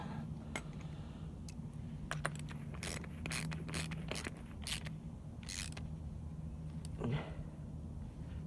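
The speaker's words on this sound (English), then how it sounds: "Once you get it further enough down, you take the ratchet," Ratchet wrench tightening a 13mm nut on a Briggs and Stratton lawn engine carburetor, a series of quick sharp clicks in uneven bursts, close and fairly quiet over a low steady hum.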